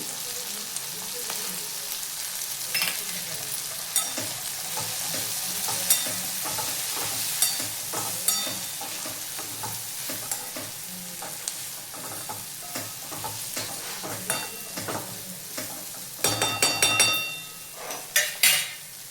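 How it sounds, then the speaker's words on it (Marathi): Cluster beans are stirred and fried in oil with chutney and masala in a pan, giving a constant sizzle under repeated scraping and clinking of a spoon against the pot, louder near the end. "चांगली हलवून घेऊया गवारीची शेंग तेलामध्ये।"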